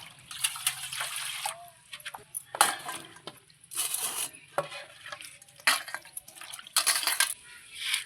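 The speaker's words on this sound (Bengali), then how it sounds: "পটলগুলোকে খুব সুন্দর করে ধুয়ে নিচ্ছি" Pointed gourds (potol) are swished and rubbed in a metal pot of water, giving repeated splashy bursts of sloshing and clinking, close and fairly quiet, with short pauses between.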